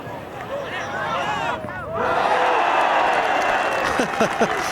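Golf gallery at the Ryder Cup rising into cheers and applause after a close approach shot, a broad swelling roar from a distance with a commentator talking over it.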